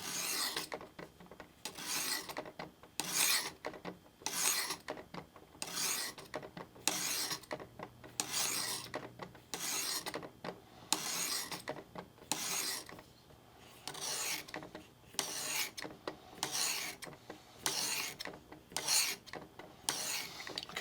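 A knife is drawn in steady, rhythmic strokes across the 600 grit face of a Work Sharp Tri-Brasive bench stone, each pass a crisp, close rasping scrape, about twenty evenly spaced strokes with short pauses between.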